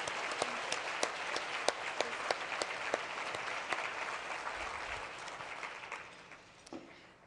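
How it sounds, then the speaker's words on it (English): Audience applause in a conference hall, steady clapping from a modest crowd with a few sharp claps standing out, gradually tapering off toward the end. "I'd like everybody please join me in giving Marion a round of applause for her excellent work"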